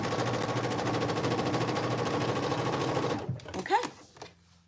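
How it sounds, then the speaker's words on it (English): A sewing machine runs steadily for about three seconds, topstitching the final side of a cargo pant gusset pocket, then stops, followed by brief speech. "just finish up the top stitching on the final side"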